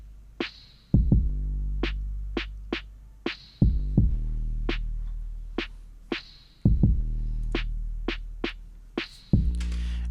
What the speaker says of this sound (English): I added this what I call the reverb or the verb snare.